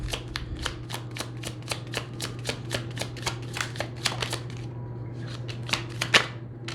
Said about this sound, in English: I am going to pull cards to see what the current status is